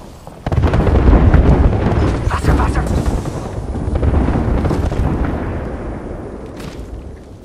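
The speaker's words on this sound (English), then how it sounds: "Yo, we got an airstrike coming down." Airstrike blasts rain down in Apex Legends, a heavy rolling rumble of overlapping explosions that swells twice and slowly fades, loud and close, with voices talking over the game sound.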